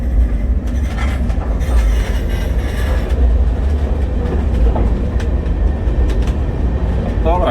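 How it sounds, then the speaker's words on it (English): A light freight train of mostly empty cars rolls along, a loud, dense rumble with rattling and clanking throughout and a brief wheel squeal near the end. "We're a pretty light train, just about every car is empty."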